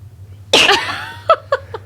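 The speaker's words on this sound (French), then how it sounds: "J'aime tellement ça éternuer" A single close, sharp sneeze bursting out, followed by a few short vocal sounds like small laughs or exhales.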